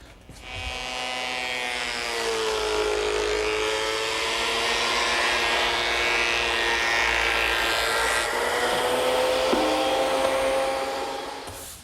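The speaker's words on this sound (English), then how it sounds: "while planing about 40 pieces of wood for my table" A wood planer runs steadily for about twelve seconds while boards for a coffee table are fed through, giving a loud, sustained whining motor drone with shifting tonal harmonics and no voices.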